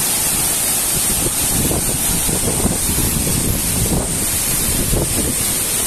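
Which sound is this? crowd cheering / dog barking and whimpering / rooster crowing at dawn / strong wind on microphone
strong wind on microphone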